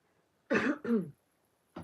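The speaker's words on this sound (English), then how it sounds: "let me just clear my throat" Two quick throat-clearing rasps back to back, close and fairly loud, followed after a pause by a shorter third one.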